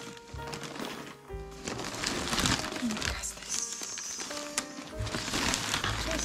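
Small bags crinkle and rustle as they are handled at close range, in irregular bursts beneath a woman's speech.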